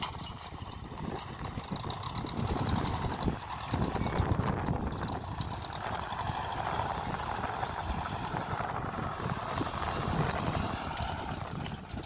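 A tractor engine runs steadily while ploughing a village field in Gujarat, a continuous loud rumbling drone with wind buffeting the microphone throughout.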